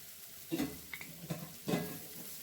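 Sliced onions for wheat-flour samosa filling stirred in a pan, a few distinct scraping and clinking spoon strokes over a faint, low sizzle, fairly quiet and close, no talking.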